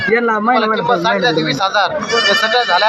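Kathewadi goats bleat repeatedly at a busy livestock market, loud close cries overlapping in quick succession.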